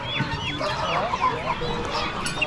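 Roosters at an Amish animal auction cluck and call nearby in a busy, overlapping flock, with people talking over the continuous barn noise.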